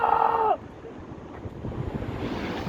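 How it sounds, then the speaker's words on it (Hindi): Steady broadband rush of a mountain waterfall along the trek route from Gulabgarh to Machail in Jammu, a continuous roar of falling water that rises slightly after a brief tonal sound at the start. "ये वाटरफॉल है।"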